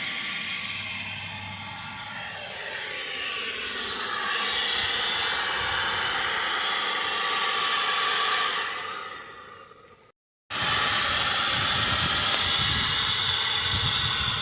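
A Worx Nitro 20V cordless brushless paint sprayer, model WX02L, sprays with a loud, steady airy hiss and motor whir nearby. It stops briefly, then starts again with no one talking.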